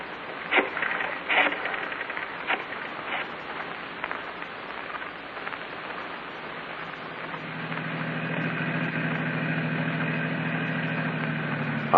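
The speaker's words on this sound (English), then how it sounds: "Keep the engine running." An engine idles with a steady low rumble that settles in and holds after a few scattered knocks and thuds, from a 1950s radio drama.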